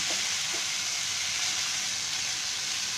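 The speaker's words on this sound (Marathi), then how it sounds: "भाजी चांगली फिरवून घ्यायची हलवून" Potato and pea samosa filling sizzles steadily in a hot pan as it is stirred, a continuous close frying hiss with faint scraping touches.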